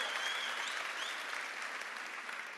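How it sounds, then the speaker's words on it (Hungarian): An event audience breaks into sustained, dense applause for Ágnes, a broad even roar of many clapping hands at moderate distance that holds steady and eases off slightly toward the end. "még egy nagy tapsot az Ágnesnek kérnék szépen"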